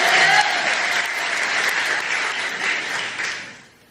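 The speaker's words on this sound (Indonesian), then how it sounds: "Jadi tepuk tangan dulu yang meriah buat kalian." An audience at a gathering gives lively applause for a Christian congregation, a dense continuous wash of many hands clapping that holds steady and then fades out over the last half second.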